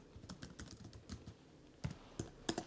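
Text typed on a computer keyboard while setting up a sketch-carving design for a jewelry tray, a quiet run of light clicking keystrokes with a brief pause, then a few sharper taps.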